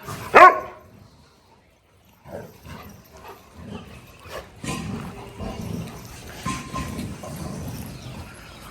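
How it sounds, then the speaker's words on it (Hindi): A sharp dog bark up front, then after a pause, low rumbling growls from dogs close by, continuing in uneven bursts. "यहाँ गुर्रा गुर्री चल रही है"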